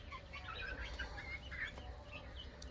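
Young chickens being raised in a coop cluck and chirp in scattered, overlapping calls, moderately close over a low background hum.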